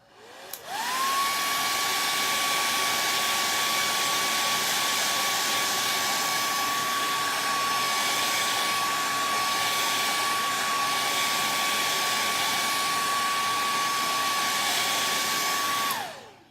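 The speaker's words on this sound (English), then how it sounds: "I'm going to blow dry that first." A hair dryer blows steadily on strawberry decor for a kitchen craft project, switching on and running loud and continuous for about fifteen seconds before cutting off, with no talking.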